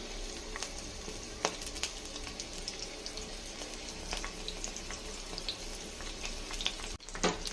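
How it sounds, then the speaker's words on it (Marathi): Curry leaves and garlic sizzle in hot oil for tomato chutney, a steady crackling hiss with scattered sharp pops and spatters, close and moderately quiet, with no talking. "तेल गरम होऊ देऊया आणि त्यामध्ये आता आपण टाकणार आहोत कढीपत्ता आणि लसूण"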